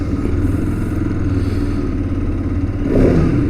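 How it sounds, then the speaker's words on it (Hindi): A 2025 Bajaj Pulsar RS 200 motorcycle engine runs close by at a steady idle before a short rev swells louder near the end, with no talking over it. "ये हो चुकी है जी बाइक स्टार्ट।"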